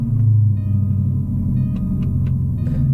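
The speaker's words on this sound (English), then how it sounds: "Everybody got a little sound of your Jag firing up." A Jaguar car engine fires up and rumbles steadily at close range, a deep low throb idling without interruption.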